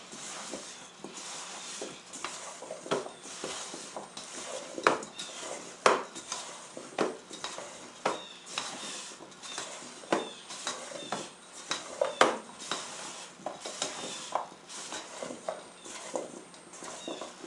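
Potatoes being tossed with oil, salt, pepper and paprika seasoning in a bowl for paprika potatoes, giving a steady run of soft clinks, scrapes and wet mixing clatter with irregular sharper knocks throughout, fairly quiet and close.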